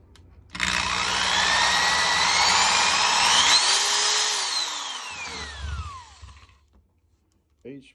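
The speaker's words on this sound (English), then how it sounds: "This is a big old heavy duty Makita drill." A big heavy-duty Makita power drill runs for several seconds at a loud, steady whine, its pitch rising and falling as it speeds up and winds down, then stops with a brief clatter.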